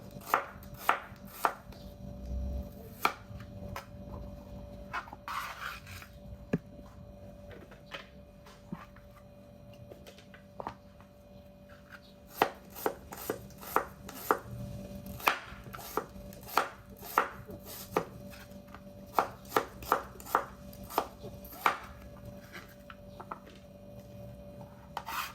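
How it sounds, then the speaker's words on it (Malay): A knife slicing shallots on a board, sharp chopping taps in irregular bursts, close and clear against a quiet background. "sekarang saya akan hiris bawang merah ni"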